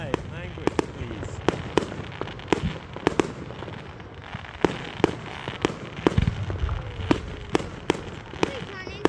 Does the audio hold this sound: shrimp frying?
no